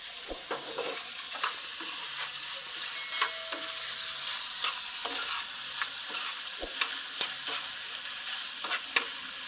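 Red onions sizzle and fry steadily in a hot pan while a utensil scrapes and stirs them in scattered light clicks, with no voices.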